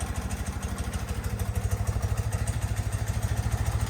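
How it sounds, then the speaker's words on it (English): A motorcycle engine that sat unused for over 20 years idles steadily nearby, a loud, even chugging pulse with a faint mechanical clatter on top. "It's also idling at a good RPM, right where I want to see it."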